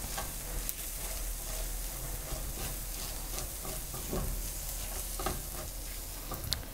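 Chicken wings curry stirred in a pan, a continuous sizzle broken by repeated scraping and clinking strokes of a spoon, fairly quiet and close, with no voices.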